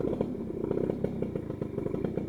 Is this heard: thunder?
no